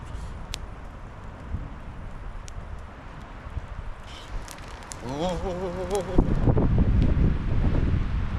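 Wind gusts and buffets the microphone in a low roar that grows stronger toward the end, with a brief voice partway through, at a campsite by Tabatskuri Lake.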